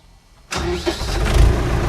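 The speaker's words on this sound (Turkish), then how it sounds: "şu an traktörümüzü çalıştırdık." Silence gives way to an Erkunt Nimet 75 tractor engine cranking and catching, then settling into a steady loud idle nearby, heard from inside the cab.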